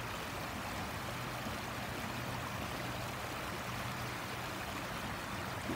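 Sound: river flowing

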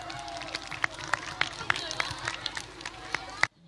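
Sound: big round of applause for the judges

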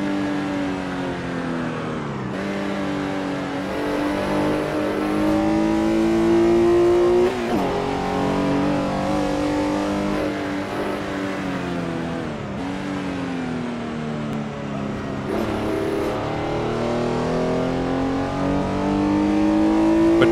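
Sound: Porsche 906 engine in Assetto Corsa, a video game

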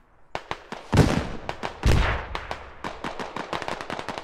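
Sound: mortar shells landing in the video game Squad

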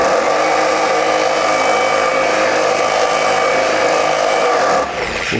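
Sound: Polisher spinning a damp waffle pad in the Optimum pad washer

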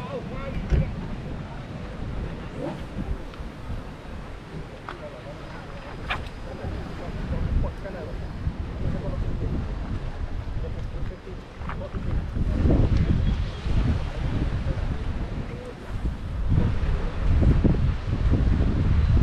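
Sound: strong wind on the beach

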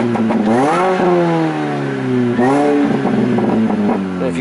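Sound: MINI Cooper S exhaust pops and crackles while revving

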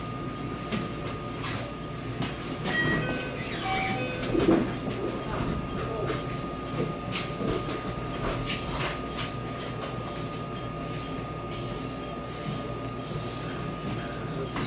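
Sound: train running on the Wakayama Line toward Wakayama

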